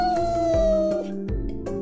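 A pet cat meows loudly and close by in a house, giving one long drawn-out falling meow followed by shorter calls, with no other sounds around it.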